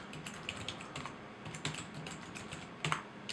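Someone types a password on a computer keyboard while setting up a local profile during a Windows installation, a quick run of soft, close key clicks with a few louder taps near the end.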